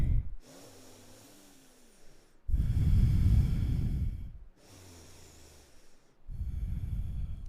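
Deep breathing in a yoga pose, slow alternating inhales and loud forceful exhales through the nose, close and clear, several breaths in a row with no talk.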